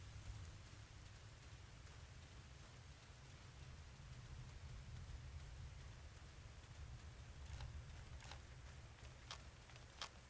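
Rain pours steadily in the military shooter ARMA Reforger on Xbox Series X, a dense, even hiss heard alone, with a few sharp crackles near the end.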